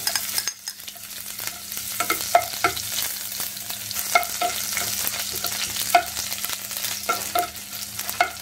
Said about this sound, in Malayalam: അതിലേക്ക് നമ്മൾ ആവശ്യത്തിന് കടുക് ഇട്ട് കൊടുക്കുന്നു. അല്പം ഉലുവ ഇട്ട് കൊടുക്കുന്നു. ചെറിയ ഉള്ളി അരിഞ്ഞതിട്ട് കൊടുക്കുന്നു.